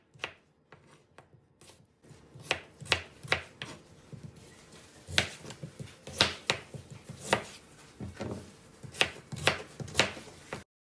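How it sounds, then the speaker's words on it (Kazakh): Potatoes and carrots are cut into large pieces with a knife on a board, giving irregular close thuds and crisp chops, some in quick bursts, with no talking. "Картопымызды ірі қылдырып тураймыз. Содан соң сәбізімізді де ірі қылдырып турап шығамыз."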